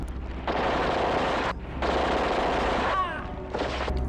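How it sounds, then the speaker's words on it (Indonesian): Gunfire rings out in a World War II combat scene with Japanese soldiers: three dense bursts of rapid shots, close and loud, separated by brief pauses. "Amelia lalu menghujamkan beberapa peluru ke tubuh serdadu Jepang tersebut."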